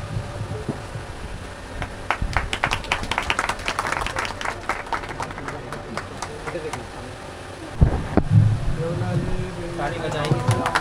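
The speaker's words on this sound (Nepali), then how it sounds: "ताली बजाएंगे" Wedding guests clap together in a steady burst of applause during the ceremony, with a voice speaking and some background noise as it fades out.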